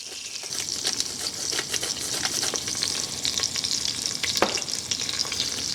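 Crushed garlic with salt and pepper frying in plenty of olive oil for a beef stew, a steady close sizzle with dense crackling pops and occasional stirring clicks, no voices.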